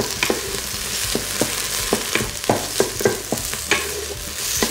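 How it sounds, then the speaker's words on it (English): Onion sauteing in extra virgin olive oil in a pan, a constant near sizzle punctuated by repeated rhythmic knocks and scrapes of a spoon stirring, no voices. "now we're going to saute our veggies. So we add the onion. Just give that a bit of a stir"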